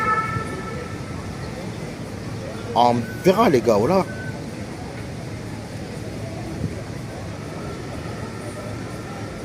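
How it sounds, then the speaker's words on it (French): A siren wails in short rising and falling bursts for about a second over steady background noise during a live stream, with people talking. "tu peux enlever le bruit de sirène du live"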